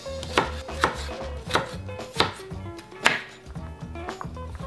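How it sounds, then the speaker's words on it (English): Knife chopping potatoes on a cutting board for a breakfast burrito, a steady series of sharp, close thuds at roughly one-second intervals with no talking. "I have no idea what I'm doing when it comes to chopping."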